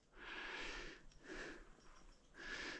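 Near a mountain summit on the Appalachian Trail, a dog sniffs close by in three breathy bursts, each about a second long with short pauses between.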